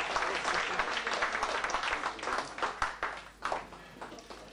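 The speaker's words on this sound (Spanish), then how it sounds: "El primer aplauso para los que vienen por primera vez" Audience applause at an evening gathering of the Oesterheld group, welcoming first-time attendees; dense, steady clapping from a mid-sized crowd that swells and then tapers with a few louder bursts.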